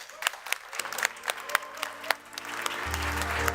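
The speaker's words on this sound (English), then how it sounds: "please welcome to the stage my panelists, Dino, Maurice, and Ralph, with a big round of applause" An audience applauds panelists at a live event at IFA 2019, scattered claps building into steady clapping, with a low hum of music or crowd noise rising underneath.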